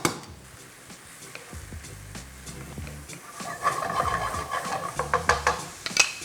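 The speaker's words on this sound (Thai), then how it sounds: "ผัดให้เห็ดของเรานุ่มดีครับ อย่าลืมที่จะคนเส้นของเราเป็นระยะด้วยนะครับ" Mushrooms and noodles being stir-fried in a pan with a utensil, giving soft scraping and stirring clatter over a quiet sizzle that gets busier and louder toward the end.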